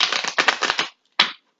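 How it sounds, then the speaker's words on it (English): Oracle cards being shuffled by hand, a close, crisp run of rapid riffling flutters that stops briefly, followed by one more short shuffle burst. "I'm going to shuffle the cards, and I usually shuffle the cards until they do not go anymore."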